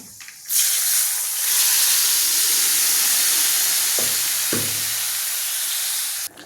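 Tomatoes pour into a hot pan, bursting into a loud, sustained sizzle and hiss that fills the scene, with a couple of brief clanks partway through.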